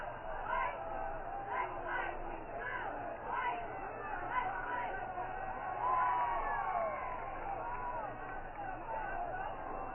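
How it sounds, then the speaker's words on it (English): Spectators at a high school football game between Braintree and Woburn cheer on the defense, a broad roar of crowd voices with scattered shouts, heard beneath a commentator talking throughout. "Crowd trying to egg on the defense."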